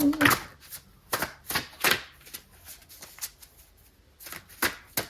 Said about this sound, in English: I just like want to keep shuffling your cards.